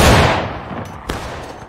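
Musket shots in War of Rights, a Civil War battle game: a heavy close report opening the moment and fading, followed by a second sharper shot further off.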